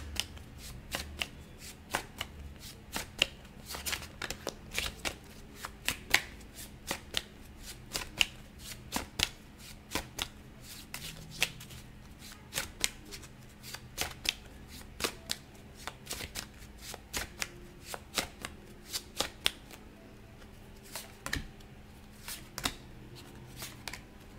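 A tarot deck is shuffled over and over in a quiet room, each riffle giving a sharp papery flutter, close and crisp, repeating in an irregular rhythm.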